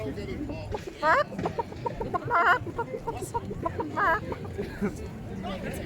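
A person imitates a chicken clucking, giving several bursts of rapid throaty clucks in a row, close and fairly loud, with other voices talking in between.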